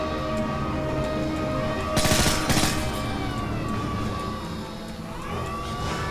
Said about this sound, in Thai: MP5 ที่เล่นในเนื้อเรื่องอ่ะแม่งโคตรแรง นะ ยิงสองเมกะแตกละ แถมยิงคมด้วย